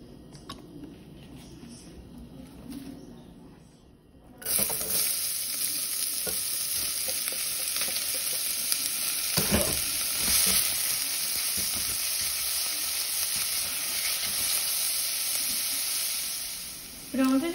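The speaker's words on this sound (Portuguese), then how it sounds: "Vou colocar também um pouquinho de óleo para refogar a cebola." Onion sautéing in a little oil in a pan for stroganoff, a quiet start that bursts into a loud, dense, continuous sizzle after a few seconds and holds steady to the end, with no talk.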